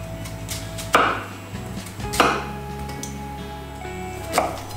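A knife cuts lengthwise down through an onion on a board, with three distinct thuds spaced about a second apart over a faint low hum, close and without talk.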